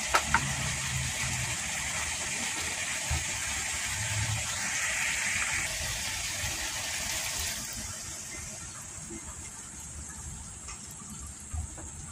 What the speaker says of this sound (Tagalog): So magdadagdag tayo ng other half cup of water.